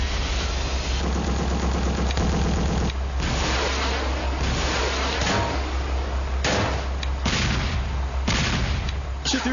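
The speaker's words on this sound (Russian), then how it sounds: "Разрушаемое окружение и треск пулеметных турелей никого не оставят равнодушными." Loud rapid bursts of machine-gun turret fire in an arcade racing video game, mixed with booms and a rumbling engine, the firing coming in several separate volleys.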